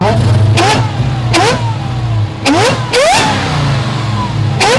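A loud 2022 Hellcat Redeye Jailbreak supercharged V8 with pulley, tune and exhaust upgrades revs hard in repeated bursts, each rising sharply in pitch, with a deep idle rumble between and a voice partly over it.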